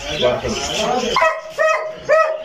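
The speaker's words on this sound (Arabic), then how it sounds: "مصطفى كيبان لك الكلب ناضي الخدمه مازال باقي صغير" A young dog yips and barks at a dog market in Casablanca, first under overlapping talk, then three short clear yelps in a row close by.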